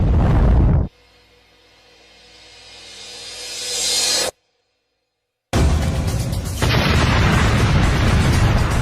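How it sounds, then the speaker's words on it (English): A loud roaring burst fades, a rising rumble swells, then after a moment of silence a heavy, crackling explosion roars on, loud and close, as El Al Flight 1862 crashes into an 11-story apartment block. "El Al 1862 smashes into the 6th floor of the 11-story apartment block."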